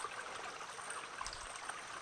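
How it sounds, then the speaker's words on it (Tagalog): A mountain stream flows in a soft, continuous babble and trickle, faint and steady, with no voices over the water. "May sapa din dito."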